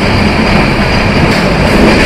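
The Banalata Express passenger train between Dhaka and Rajshahi roars past close by, a loud continuous rumble of wheels and carriages with no talking.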